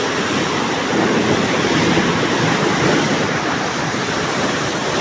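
Water rushes under pressure through the Kutch branch canal on a cloudy day, a loud, steady, broadband roar with no pauses and some wind buffeting the microphone.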